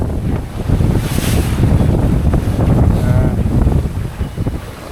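Sailboat under way at sea in the Ha'apai islands, with steady wind rushing over the microphone and waves washing against the hull, loud and continuous throughout with no talking.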